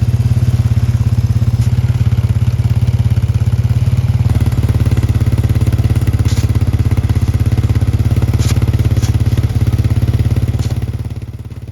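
An ATV quad plowing a gravel driveway, its front blade raised and lowered by a winch and dragging snow as it backs up: a steady, loud, close engine drone with light clatter, fading slightly at the end.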